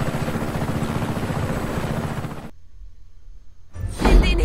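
A helicopter's rotor in the game Just Cause 3 chops steadily and loudly, then cuts out abruptly into near silence before a brief burst of noise returns.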